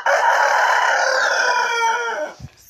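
A single rooster crows one long, loud cock-a-doodle-doo close by, the call fading out near the end, followed by a brief low thump.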